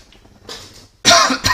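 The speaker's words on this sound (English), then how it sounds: "Excuse me, got a cough today." A single close, harsh cough preceded by a softer throat sound, with no speech.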